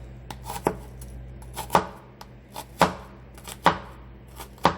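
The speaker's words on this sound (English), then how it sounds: "It's really hard to chop with the camera on." Knife chopping beef on a cutting board for chili with elbow pasta: sharp, close strikes land in an irregular rhythm, about eight to ten hits with short pauses between them, and no voice is heard.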